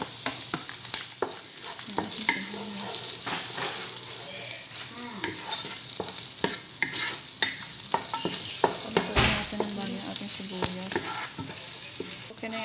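Chopped onions sautéing in a hot pan for a homemade Filipino sotanghon beef dish, a steady close sizzle and frying hiss with frequent stirring scrapes and clinks of a utensil against the pan throughout.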